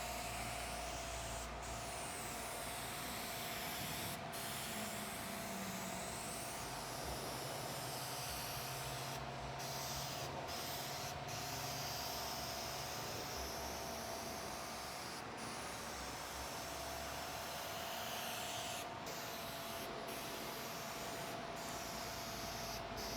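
Aerosol spray paint can hissing steadily as it dusts a coat onto a car fender, a continuous close hiss broken only by a few brief pauses in the spray.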